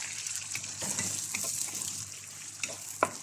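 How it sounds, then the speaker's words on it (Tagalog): Garlic, onion and tomato sauté in a pan for a vegetable dish cooked in coconut milk, giving a bright, close sizzle with quick stirring scrapes and a sharp utensil clink near the end. "Gisa lang ako ng bawang sibuyas. Sinunod ko na yung kamatis."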